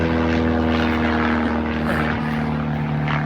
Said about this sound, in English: nice biplane going across top of us